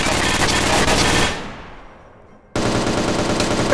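Rapid automatic gunfire rattles at a gun range in the VRChat video game, a dense, loud burst that cuts off, leaves a brief lull, then resumes abruptly.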